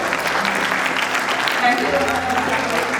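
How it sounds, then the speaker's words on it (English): An audience at a Sri Lanka Night event applauds loudly and densely, a continuous wash of clapping with voices mixed in underneath. "Let's give them a round of applause."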